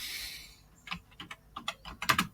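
Someone types a message on a computer keyboard, a quiet, close run of irregular key clicks that speeds into a denser cluster near the end.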